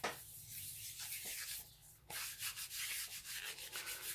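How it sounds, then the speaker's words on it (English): Corn flour is rubbed by hand onto Rust-Oleum coated coasters, giving close, continuous scratchy friction with rhythmic back-and-forth strokes and a brief pause midway. "Give it a good rub."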